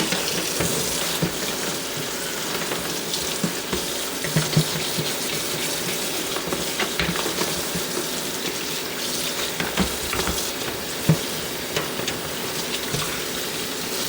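A dishwasher part is rinsed under a kitchen sink tap, with steady running water splashing over it and occasional louder spatters as the piece is moved in the stream.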